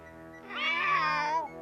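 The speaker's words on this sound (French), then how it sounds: "Mais c'est un chat." A cat lets out a single long, drawn-out meow, rising and then falling, loud and close over a low steady hum.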